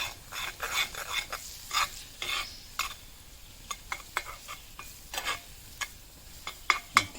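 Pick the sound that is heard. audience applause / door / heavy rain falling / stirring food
stirring food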